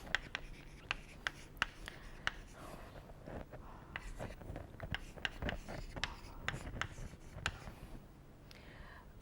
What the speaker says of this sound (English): let me sort of write this out